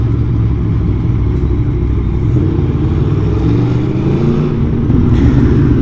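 A 2021 Aprilia Tuono motorcycle in sport mode gives a loud, steady engine roar with a deep rumbling drone heard close up, holding a fairly even pitch throughout.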